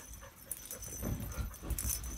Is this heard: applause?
no